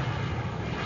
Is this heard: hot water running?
no